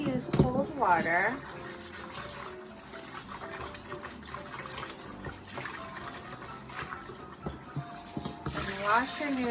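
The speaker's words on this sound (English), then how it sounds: "wash your noodles until they get really cold" Running cold tap water splashes and gushes steadily in a sink as udon noodles are rinsed, with a person talking over it near the start and end.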